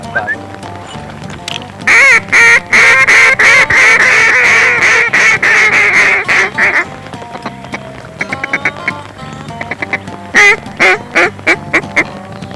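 Loud, rapid quacking from several hen ducks bursts out in a dense run, then thins to scattered quacks that pick up again toward the end.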